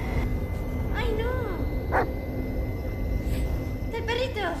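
Dog barking in the Blair Witch horror video game, a few separate yips and barks rising out of a steady ambient rumble, fairly close, with a player's voice talking at times.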